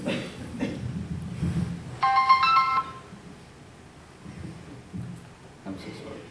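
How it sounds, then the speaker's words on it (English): A mobile phone ringtone sounds for about a second with a bright, repeating electronic melody in a conference hall, rising briefly above the room's murmur before cutting off, with a speaker's voice before and after. "I forgot to turn off my phone."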